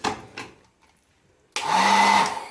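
A steady, loud blowing whir starts abruptly and runs on, a hotel-room hair dryer switched on close by, after a few faint sounds.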